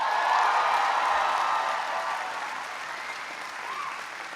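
A large university audience applauds at an event, a dense, sustained wash of clapping that slowly tapers off without fully stopping.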